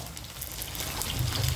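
Cabbage tumbles into a hot pan of chop suey with a rising, watery sizzle and splashy crackle, steady and close, with no talking.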